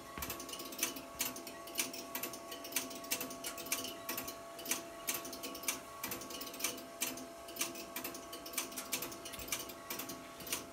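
Rotary telephone dial pulsing at close range, a steady series of evenly spaced sharp clicks ticking along with a faint underlying hum, no voices.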